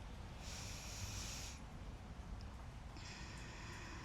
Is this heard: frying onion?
no